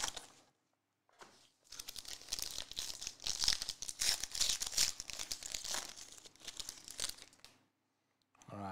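Foil and cellophane wrapping crinkles and tears steadily as a box of 2021-22 Panini Obsidian soccer trading cards is unwrapped, close and continuous for several seconds between brief quiet pauses.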